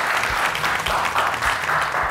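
Studio audience applause on a Turkish cooking competition show, a short burst of steady clapping from a crowd, moderately loud and continuous for about two seconds.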